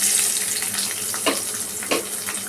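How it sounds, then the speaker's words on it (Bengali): Chopped onion going into a hot pan of oil for an Indian salmon fish curry, a steady close sizzle with two brief louder hisses as pieces land. "এরপরে আমি পেঁয়াজটা দিয়ে দিচ্ছি।"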